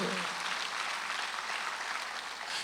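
Church congregation applauding during a Sunday worship service, a steady broad wash of many hands clapping together for a few seconds without a break.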